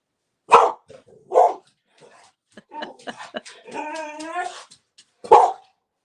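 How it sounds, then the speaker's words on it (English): A dog gives a few sharp barks and yips, then a drawn-out whining howl, followed by one more bark, with no one speaking. "You're going to get everyone's dogs barking now"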